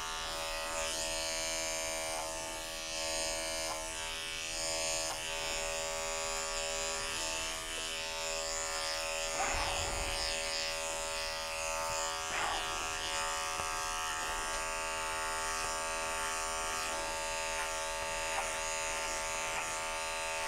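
Electric grooming clippers fitted with a 10 blade shave the matted face of a Shih Tzu/Cocker Spaniel mix, giving a steady close-up motor buzz that hums on without a break and shifts in pitch briefly as the blade works through the coat.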